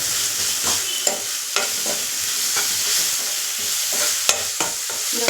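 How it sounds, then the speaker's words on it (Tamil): Tomatoes are pressed and stirred in a hot pan of oil for sambar, with a steady sizzle under repeated rhythmic scraping strokes of a spoon against the pan, close and even. "தக்காளி இப்படி நசுக்கி விட்டுக்கலாம்."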